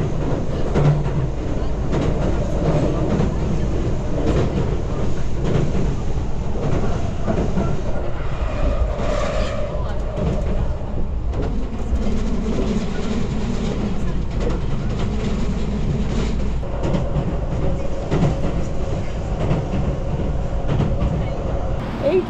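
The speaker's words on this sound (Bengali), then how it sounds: "এই ট্রেনটাই করে আমরা এসেছিলাম" A comfortable passenger train in Japan rolls along its rails, heard from inside the carriage as a loud, steady rumble with faint rhythmic clatter, lasting throughout without a break.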